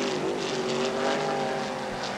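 Race cars at speed on a circuit during a 1981 IMSA Kelly American Challenge race at Pocono, a steady, sustained engine drone with shifting whine tones, fairly distant and continuous without talk.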